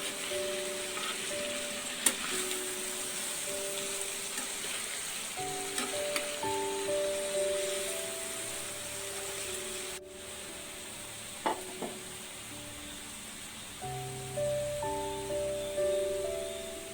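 A spoon stirs dal with chili flakes in a pan, giving soft, intermittent scrapes and light sizzling. A few sharp taps stand out, and gentle melodic tones play underneath.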